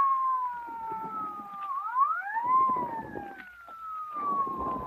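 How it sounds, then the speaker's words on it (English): A police car siren wails in an old-time radio drama, its rising and falling tone moderately loud and held across the whole stretch, with a low rumble of traffic beneath. "What chowderhead was stupid enough to use his siren?"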